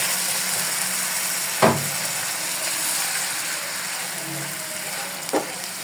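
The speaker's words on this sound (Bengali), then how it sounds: "এখন একটু পানি দিয়ে দেবো।" Water poured into a hot frying pan of fried ginger and garlic paste while cooking egg poach korma, giving a steady, loud sizzle with two sharp clicks of utensils.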